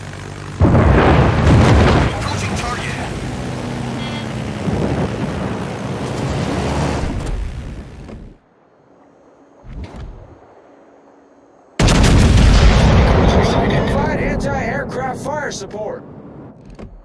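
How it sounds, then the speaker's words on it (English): Warship artillery booms roll out in World of Warships, heavy sustained blasts with ocean and wind rumble, loud and close, dropping to near quiet midway before another barrage erupts; a voice speaks over the firing. "All stations, concentrate fire on the target."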